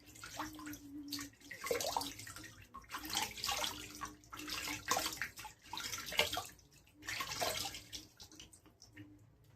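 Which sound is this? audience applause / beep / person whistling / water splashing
water splashing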